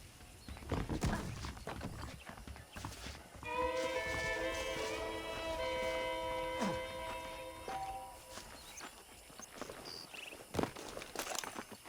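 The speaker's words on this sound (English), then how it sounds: "The horses are saddled up over here." Red Dead Redemption saddled horses clip-clop along at a walking pace, hooves thudding unevenly, while a bright, sustained musical tone plays over the middle stretch.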